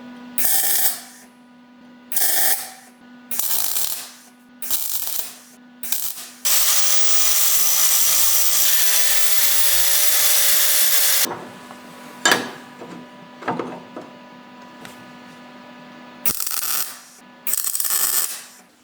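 Power tool cutting part of a car rear axle to fit a differential, several short bursts of loud cutting followed by one long sustained cut of about five seconds, then more brief bursts with quieter clanks between.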